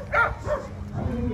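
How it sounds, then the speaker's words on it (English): A bigger dog gives a couple of quick, close barks at an outdoor dog jumping competition, with people talking over it. "That's a bigger dog."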